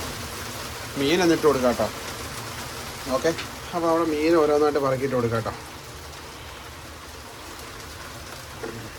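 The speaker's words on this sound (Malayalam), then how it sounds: "നല്ല മഴ പെയ്യുന്നുണ്ട് കേട്ടോ" Steady rain hisses in the background throughout while a person talks over it in short stretches beside a boiling curry.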